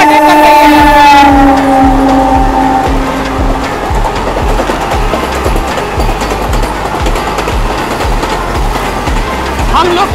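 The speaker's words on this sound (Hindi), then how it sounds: "इधर से आ रही है 22415 वाराणसी नई दिल्ली वंदे भारत एक्सप्रेस हमारी ट्रेन को ओवरटेक कर रही है" From aboard another train, the 22415 Varanasi–New Delhi Vande Bharat Express overtakes on a parallel line: a loud horn-like tone falls away early, then a heavy rumble continues with rhythmic wheel clatter.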